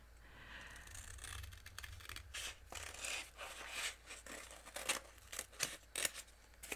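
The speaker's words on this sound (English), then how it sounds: "I'm just gonna cut a piece down to the size that I need." Scissors cutting through a double-sided adhesive sheet for puffy stickers, a series of soft close snips and crinkly rustles that grow sharper toward the end, with no talking.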